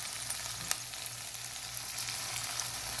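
Two tablespoons of yogurt go into masala okra (bhindi) frying in a pan, giving a quiet, even sizzle with faint crackles and a low background hum, and no voices.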